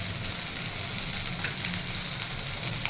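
Onions sauté with salt in a pan, giving a steady, close hissing sizzle with light crackle and no voices.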